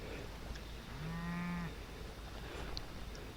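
A single cow gives one drawn-out low moo lasting under a second, mid-distance and fairly clear, against steady outdoor background noise during a night hog hunt.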